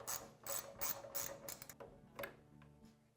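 Ratchet turning a 5mm Allen head bolt out on a Honda Transalp XL750 motorcycle, a close run of quick clicking bursts followed by a few lighter, sparser clicks.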